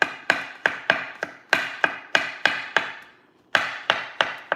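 Leftover mushrooms being chopped for vegetable soup, a run of sharp knife strikes on a cutting board in an irregular rhythm with a brief pause, close and fairly loud.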